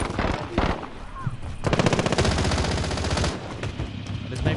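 Rapid automatic gunfire in Call of Duty Warzone, bursts of machine-gun shots crackling in quick succession, loud and close, with quieter gaps between bursts and some faint in-game sound behind.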